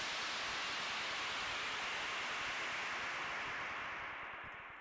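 A bright, hissing crash cymbal from a Microkorg synthesizer washes out in a long noisy decay, fading gradually over several seconds with nothing else playing.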